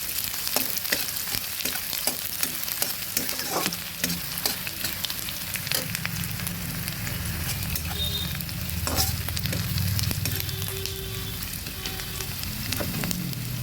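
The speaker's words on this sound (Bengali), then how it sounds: "সুন্দরভাবে পেঁয়াজটা ভেজে দিচ্ছি।" Onion frying in a pan, a steady close sizzle throughout with occasional stirring clicks and scrapes, fairly loud and continuous with no talk.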